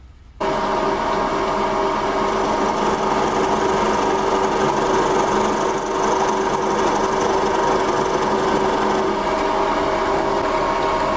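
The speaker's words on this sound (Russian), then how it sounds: "я буду сверлить 18-м сверлом до середины" A power drill with an 18 mm bit bores into wood, running at a steady whining drone for about eleven seconds after a sudden start, loud and close.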